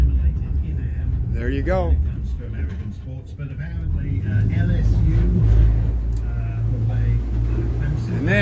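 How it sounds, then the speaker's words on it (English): Boat motor on a 2019 Stabi 2500 with forward starboard motors being throttled back, a low steady engine rumble running under a man's speech throughout. "Cut the forward starboard motor back."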